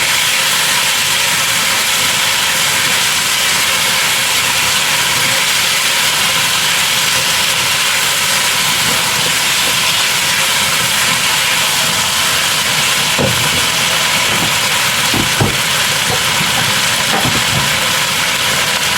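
Braised pork and mushrooms simmer in a pot with hot water added, giving a steady, close hiss and bubbling with a few soft clinks near the end.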